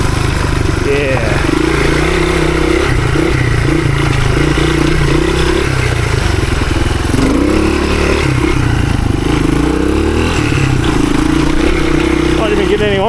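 A 1983 Honda XR200R dirt bike rides through woods, its small single-cylinder engine droning loud and close with rising and falling revs throughout, while a voice speaks over it.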